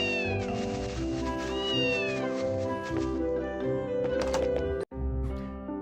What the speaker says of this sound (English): Oh, hey, cat.